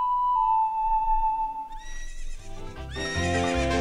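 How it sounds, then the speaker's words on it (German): A horse whinnies in the video game Zelda: Ocarina of Time, a long, loud neigh that rises and wavers. Game music and other game sounds then swell in underneath, with no talking. "Wenn Epona ankäme, hätten wir jedenfalls unser Pferdchen schon mal."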